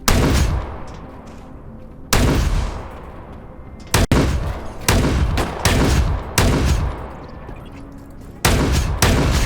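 Repeated heavy bursts of gunfire in the Dysterra game's Chemochamber area, loud broadband blasts arriving in irregular clusters with short lulls between them.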